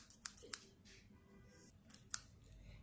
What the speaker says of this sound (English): And now I will cut it out.